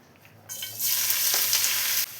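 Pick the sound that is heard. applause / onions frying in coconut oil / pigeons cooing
onions frying in coconut oil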